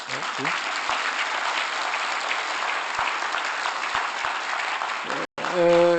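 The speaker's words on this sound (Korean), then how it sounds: "보통 이러면 딴 데 가면 박수를 쳐요." An audience at a lecture for court officials applauds steadily for about five seconds, broad dense clapping that cuts off abruptly, followed by a brief tonal sound.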